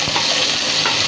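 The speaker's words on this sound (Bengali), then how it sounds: "মাছটা ভেজে নিচ্ছি তো সেই কারণে তেল দিইনি" Fish fries in a pan with a little oil and ground ginger, giving a dense, continuous, loud sizzle up close, broken by a few soft stirring scrapes.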